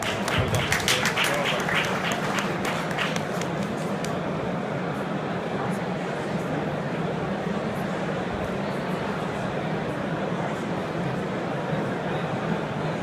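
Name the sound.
audience applause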